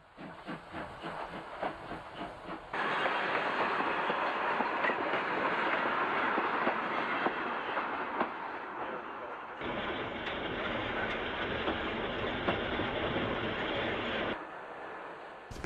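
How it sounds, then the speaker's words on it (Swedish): A mixed steam-era train pulled by a locomotive on Gotland rolls past with steady rumbling and hissing, rhythmic clatter at first, then a sustained loud mechanical roar that cuts off abruptly. "Ett blandat tåg draget av lok 4 ankommer från Roma."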